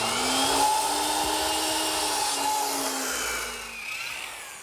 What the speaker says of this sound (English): now I'm going to bring it over to my miter box and cut it back at about 33 degrees